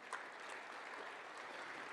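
An audience at a security conference closing ceremony gives a faint, distant round of applause for an escape room team, soft, steady clapping with no clear talking.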